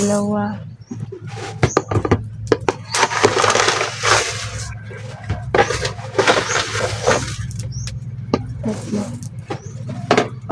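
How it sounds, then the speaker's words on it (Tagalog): Three cups of uncooked rice are poured from a cup into a metal cooking pot, giving a series of rattling, clattering bursts mixed with knocks. People talk throughout. "lalagyan ko muna na ang ating kaldero ng 3 basong bigas"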